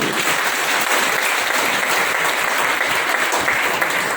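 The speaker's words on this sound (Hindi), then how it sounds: "मैं कहता हूँ उनके लिए जोरदार तालियां होंगी" Dense, steady applause from an event audience for the organizer, a continuous wash of many hands clapping at even loudness throughout, with no voices above it.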